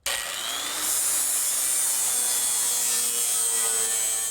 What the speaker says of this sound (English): Now we're going to use these flap wheels from the Eastwood company that will allow us to grind and finish in one step without gouging the metal.